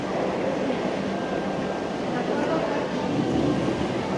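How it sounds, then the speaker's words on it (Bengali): The 12301 Howrah New Delhi Rajdhani Express stands at a foggy station, wet from mist while being refilled with water, giving off a steady, unbroken rumbling hum with a faint high whine. "আর এই হলো আমাদের ট্রেন, পুরো কুয়াশায় ভেজা।"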